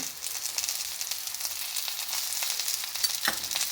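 Nendra banana roasts in ghee in a pan, giving a steady, close crackling sizzle that runs continuously with no voices.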